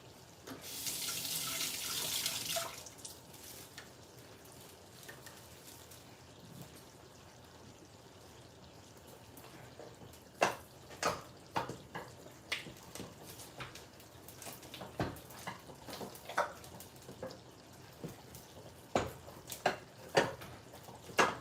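Kitchen tap running into a sink in a home kitchen during palm butter cooking, a loud steady gush for a couple of seconds, then a quiet room with scattered clinks and knocks.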